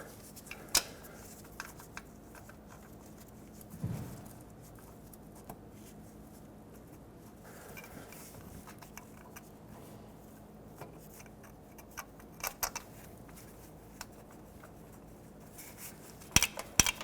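Bolts threaded into a starter on a 2000-2005 Ford Excursion, heard as faint, sparse metallic clicks and taps scattered over a quiet background.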